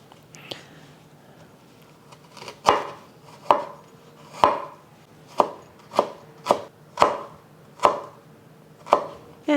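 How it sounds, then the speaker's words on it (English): A knife chops fresh ginger into matchsticks on a cutting board for a Chinese ginger and onion sauce, with about ten crisp, evenly paced strokes heard up close. "I'm just going to cut it into matchsticks"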